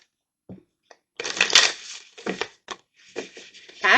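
A new tarot deck is handled and shuffled up close, with crisp riffling and flapping card bursts separated by brief pauses and small taps, no talking over it.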